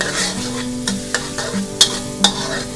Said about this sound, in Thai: ผัดไปเรื่อยๆแบบนี้นะคะ จนกว่ากระเทียมจะหอมแล้วก็เริ่มที่จะสุก